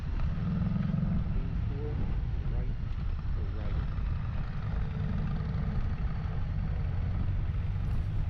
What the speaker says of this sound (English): it has a really nice low chug sound to it